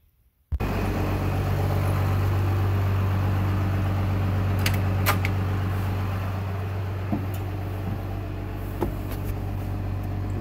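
The engine of a 2394 cranks steadily, a loud, close, continuous churning drone that runs for about ten seconds without catching or firing up.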